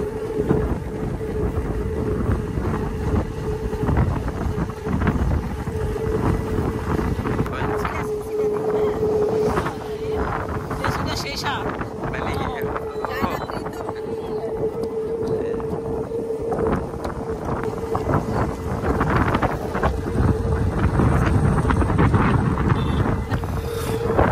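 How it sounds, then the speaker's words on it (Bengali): Strong wind buffets the microphone in a continuous roaring rush that swells and eases, with voices faintly underneath. "আর আজকে প্রচুর বাতাস, খুব ভালো লাগতেছে।"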